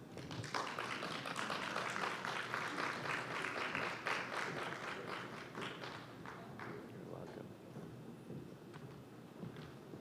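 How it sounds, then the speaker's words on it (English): At a trade and investment conference, a panel audience claps softly and unevenly for an incoming moderator, the applause fading gradually over several seconds amid the room's background murmur. "I didn't like that clapping, it was a bit soft."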